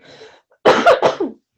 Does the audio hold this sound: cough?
yes